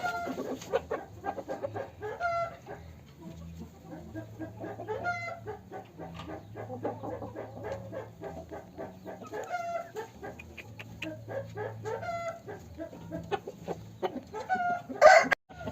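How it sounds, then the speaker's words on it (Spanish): Asil crossbred fighting chickens clucking and cackling in a coop, with a continuous busy chorus of overlapping hen calls at moderate distance and a sharper, louder call near the end. "Es una gallina que también es terciada."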